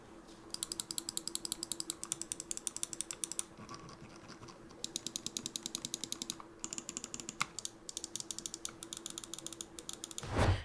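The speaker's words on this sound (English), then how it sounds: "A very smooth scroll wheel that is easily spammable in my opinion and very tactile" Rapid bursts of small clicking ticks from the smooth, tactile scroll wheel of an Xtrfy M42 Wireless mouse, several quick runs separated by brief pauses, close up and fairly quiet, with no talking.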